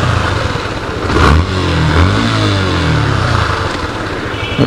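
Yamaha FZ motorcycle engine starting up and revving at close range, a steady mid-pitched drone that swells and falls in pitch as the throttle is worked, with no talk over it.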